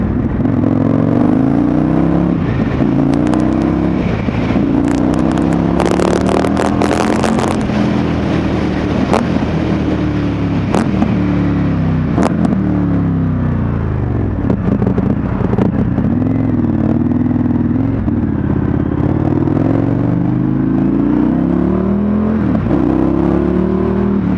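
An Indian FTR1200 motorcycle engine pulls hard while being ridden, its loud roar rising in repeated swells as the revs climb and drop through the gears, up close, with wind noise and no talking.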